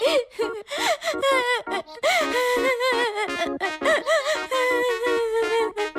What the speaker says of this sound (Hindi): तभी दोनों बच्चों की रोने की आवाज सुनकर दादाजी उनके कमरे में आए।